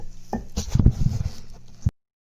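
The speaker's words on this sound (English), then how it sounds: "You're just gonna take it and mix it by hand." Bath bomb dry ingredients, baking soda and citric acid, mixed by hand in a bowl: soft close rustling and scraping with a few light knocks, ending abruptly.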